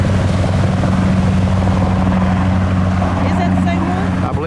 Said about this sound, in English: Looks like the same helicopter.